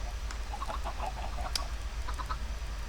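Chickens on an automatic Minecraft chicken farm give short, scattered clucks over a steady low background hum, fairly close and moderately loud, with no talking.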